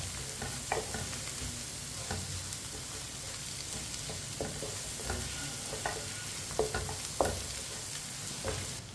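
Onion and egg sabzi cooks in a pan, with a low, steady sizzle and occasional scraping stirs spread across the stretch.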